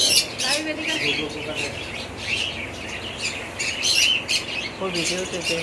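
Pet doves and cockatiels squawk and chirp in a steady chorus, with repeated harsh calls close by under people talking.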